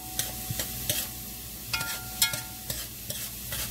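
Onions with a few turns of pepper sweat in a pan for a miso soup, a soft, low sizzle under a series of close, distinct stirring scrapes and clinks at an irregular pace.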